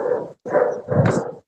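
Skippy, a rescue dog around nine or ten years old, giving three short vocal bursts like soft whining barks or grumbles, close and fairly loud, the last one rising higher.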